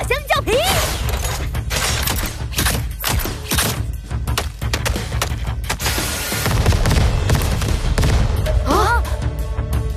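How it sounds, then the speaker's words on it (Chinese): Cartoon explosions in a dinosaur patrol animated show: repeated loud booms and thuds burst through a dense mix of music and excited cartoon voices, with a heavy rumbling stretch toward the end. "让爆炸来得更猛烈些吧"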